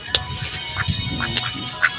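A duck gives a few short, faint quacks close by in an outdoor yard, scattered over about two seconds amid light background noise.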